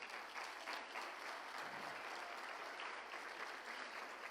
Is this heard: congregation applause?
yes